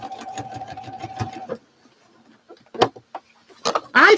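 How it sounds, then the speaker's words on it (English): A sewing machine stitches a quilt line in a fast, close, rhythmic run for about a second and a half, then stops, followed by scattered clicks and handling noises. "I think I can go ahead and probably sew my second line"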